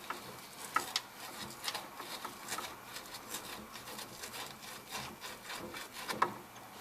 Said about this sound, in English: I want to sand it off because there is some garbage on it.